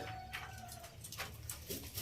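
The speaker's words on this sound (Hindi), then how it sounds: "ये चौधरी सखी वाला 41 नंबर कबूतर है जी" Pigeon cooing close by, soft low repeated coos in a short sequence against faint background noise.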